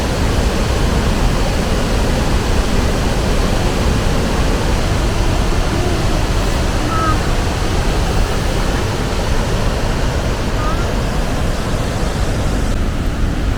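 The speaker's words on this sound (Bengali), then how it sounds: "এই রকম জল ছাড়ার দৃশ্য আগে কিন্তু কখনো দেখিনি" Floodwater thunders through the open lock gates of Maithon dam, all twelve released at once, a loud, steady broadband roar that holds unbroken and close by throughout.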